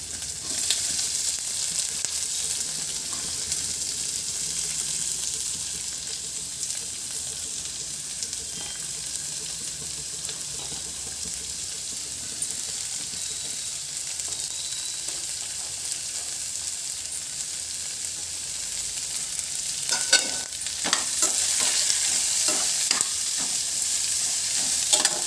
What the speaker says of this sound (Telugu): ఉల్లిపాయలు టమాటాలు ఇలా కట్ చేసుకొని కొంచెం వేపుకోవాలి పచ్చివాసన పోయినంత వరకు